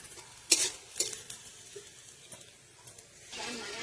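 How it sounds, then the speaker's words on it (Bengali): Soft sizzling of onion and slit green chillies frying in a pan, with a few sharp clinks and scrapes of a utensil stirring, no talking. "পেঁয়াজটা আমি বেশি ভাজবো না, অল্পই ভেজে নেব। পেঁয়াজটা হালকা ভাজা হয়ে গেছে।"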